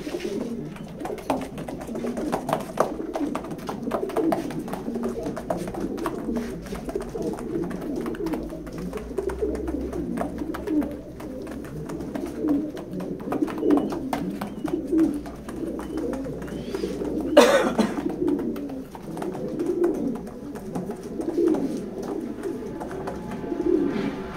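Pigeons coo steadily in a pigeon loft, a dense, continuous layer of low, rolling calls from many birds nearby, with a brief sharper noise partway through.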